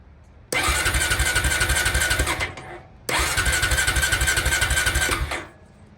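A Honda ATV engine cranks loud and close in two sustained bursts of rapid chugging, each lasting about two seconds before cutting off, with a short pause between, and no voices.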